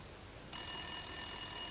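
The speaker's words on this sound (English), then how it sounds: "Every 5 minutes, the phone rang." A telephone rings in Love, Money, Rock 'n Roll, a steady high electronic trill that starts suddenly after a short hiss and carries on evenly at moderate volume.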